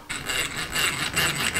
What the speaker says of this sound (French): Je vais tout percer d'abord au diamètre 3.